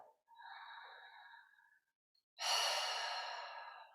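Deep breaths drawn during a beginner yoga flow: a softer, breathy inhale followed after a short pause by a loud, long, airy exhale that slowly fades, close and alone with no talking.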